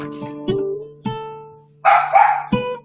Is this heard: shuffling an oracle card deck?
no